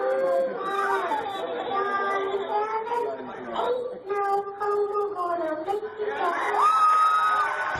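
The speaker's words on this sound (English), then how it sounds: "Oh, and they all start cheering." A played-back recording of a crowd with children breaks into cheering and whoops over a constant layer of overlapping chatter, rising loudest toward the end.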